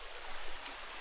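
Udall Beck, a river flowing toward Coniston Water in Cumbria, makes a steady, soft, continuous rushing hiss, even and unbroken at moderate distance.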